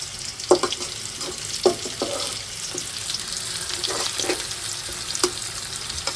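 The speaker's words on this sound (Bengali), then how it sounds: "পেঁয়াজটা ভেজে দিয়ে দেবো" Onions frying in a pan with a soft crackling sizzle, punctuated by several sharp clinks and scrapes of a spoon stirring, close and without voices.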